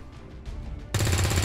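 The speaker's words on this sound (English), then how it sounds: "I'm thinking we gotta just take these shots here and hope they hit" Rifle gunfire from soldiers taking shots in the video game XCOM 2: after a quieter stretch, a loud, dense burst of shooting erupts and continues steadily to the end.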